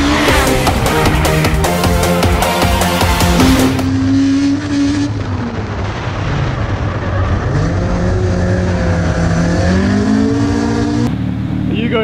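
A loud car engine roars and revs up and down repeatedly, close by, with a brief squeal of tires.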